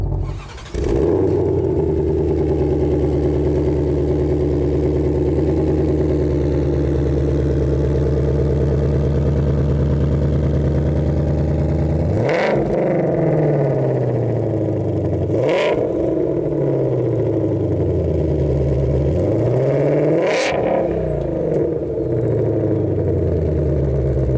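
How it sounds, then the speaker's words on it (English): A 760 hp 2021 Ford Mustang Shelby GT500's active exhaust rumbles loud and deep nearby, with three sharp revs rising and falling near the end. "this is gonna be pumping out absolutely ridiculous exhaust noises"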